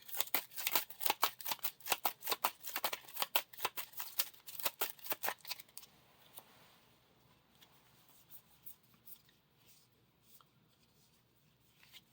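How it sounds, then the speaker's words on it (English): Cards for the Lord of the Rings living card game are riffled and shuffled in rapid crisp bursts for several seconds, followed by softer sporadic card handling and taps. "Shuffle him into the encounter deck"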